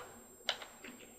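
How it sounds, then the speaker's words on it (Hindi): A single sharp keystroke on a computer keyboard, followed by a couple of fainter key taps, typed into a browser while configuring a Palo Alto firewall, quiet and close with no talk. "यहाँ पे अपने टाइप करना है"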